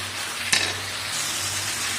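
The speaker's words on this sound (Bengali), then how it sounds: "এটা কষতে থাকবো যতক্ষণ না তেল বেরোচ্ছে পেঁয়াজ থেকে।" Onions and spices sizzle steadily in hot oil as they are stirred in a pan, a continuous close frying hiss with one brief scrape of the spoon partway through.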